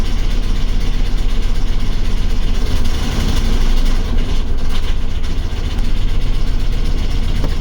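Engine of a hurt Ford OBS crew cab pickup truck running rough, a loud steady low rumble that holds throughout with slight unevenness, close by and without talk.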